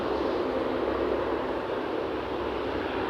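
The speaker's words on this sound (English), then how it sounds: "Sounds like another chopper inbound as well" Helicopter flying inbound to Aberdeen heliport, a steady broadband engine and rotor roar heard from a distance, even and unbroken throughout with no talk.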